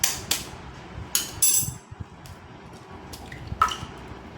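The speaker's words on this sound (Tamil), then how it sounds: "ஒரு முட்டையை உடச்சி ஊற்றிக்கலாம்" An egg is cracked and poured in a home kitchen, with a few sharp taps and clicks followed by soft wet drips and splats, close and fairly quiet, with no talking.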